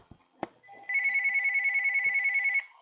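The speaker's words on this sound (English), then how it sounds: "My house phone is ringing." A house phone rings with a steady electronic trill lasting under two seconds, loud and close, preceded by a couple of faint clicks and bumps.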